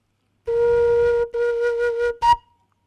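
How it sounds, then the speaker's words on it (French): A homemade whistle made from plastic pipe and curtain-rod wood blows a loud steady pure tone, pauses, sounds again more unsteadily, then ends in a short sharp chirp. "là on a un sifflet, mais si je la rallonge, là je commence à rentrer dans la famille des flûtes harmoniques"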